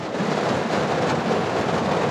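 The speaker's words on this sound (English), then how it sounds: "There's the thunder." Rolling thunder during a storm, heard from inside a car camped in the woods, a steady broad rumble with rain noise that fills the whole moment, loud and continuous without a distinct crack.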